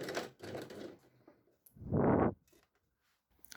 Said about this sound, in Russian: И аккуратненько на расстоянии 1 мм от сгиба делаю аккуратную ровную строчку